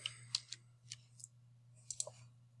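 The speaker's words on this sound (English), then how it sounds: "I start by clicking with the 2-point rectangle." Sharp, faint mouse clicks in CAD software sound while a rectangle is drawn: a few irregular single and double clicks spaced across a couple of seconds over a quiet electrical hum.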